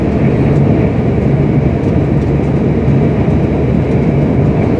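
Passenger train nearing Grantham, heard from inside the carriage as a loud, steady rumbling drone of wheels and motors with no break.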